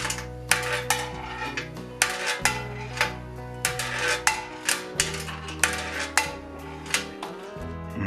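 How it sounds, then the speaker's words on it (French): Loose screws rattle and clatter inside a BSA motorcycle fuel tank as it is shaken, giving repeated sharp metallic crashes in uneven bursts, close and fairly loud. "On a bien secoué le réservoir"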